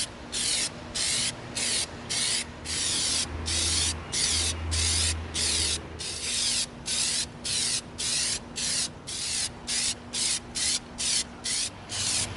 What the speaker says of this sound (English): spray our gauntlet